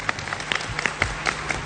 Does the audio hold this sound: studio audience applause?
yes